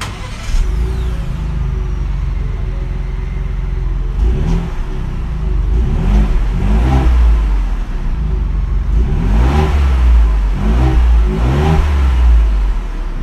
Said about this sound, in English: now the exhaust actually doesn't sound too bad.